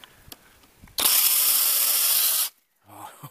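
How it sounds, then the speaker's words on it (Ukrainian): An electric saw switches on and cuts a dry branch, giving a loud, harsh buzzing burst of about one and a half seconds that stops abruptly, followed by faint handling noises. "Так, вмикаю пилку."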